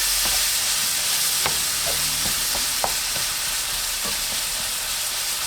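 Food frying in grease in a pan, producing a continuous dense sizzle with scattered pops and crackles, loud and close throughout with no voices.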